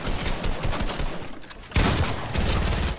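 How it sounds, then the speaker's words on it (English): Video game gunfire crackles in rapid volleys, with scattered shots first and then two dense, loud bursts of automatic fire close by, no voices heard. "What am I getting shot at,"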